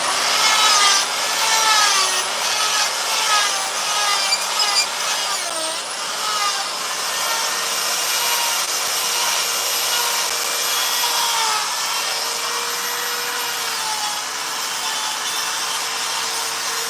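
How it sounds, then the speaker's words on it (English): Die grinder smoothing a chainsaw-carved wooden figure, a loud, steady whining grind with shifting pitch that runs throughout without pause. "Take the die grinder, start cleaning this guy up."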